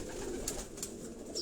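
Pigeons kept at a house in Lahore coo softly, a low murmuring call with faint brief chirps or flutters, quiet and close with no talking.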